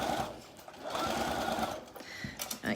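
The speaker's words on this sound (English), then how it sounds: "I'll do a little bit of stitching just so you can see." A home sewing machine stitches a short row of a summer skirt with an elasticated waistband, whirring in a close, steady run with a few small stops and restarts.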